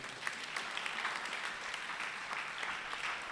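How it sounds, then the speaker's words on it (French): An audience at a church children's service claps together in a steady, dense round of applause that holds at an even level from start to finish. "Mais acclamons pour ceux qui écoutent déjà."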